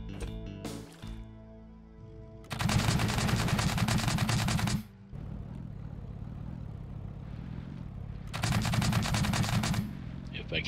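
Laser gun fire in the video game Scrap Mechanic, two separate sustained bursts of buzzing rapid shots, each lasting a couple of seconds, loud against a quieter background of game sounds.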